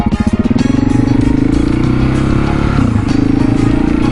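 A KTM 701 motorcycle engine revs hard and steadily during a second-gear wheelie, a loud, close, continuous drone with slight pitch swells and no talking.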